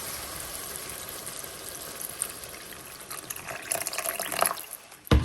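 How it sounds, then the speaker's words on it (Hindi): Hot water poured from a vessel into frying spices for a chicken kofta gravy, a steady close splashing, bubbling stream that swells louder toward the end before a sharp clatter. "अब हम इसमें गर्म पानी शामिल कर देंगे।"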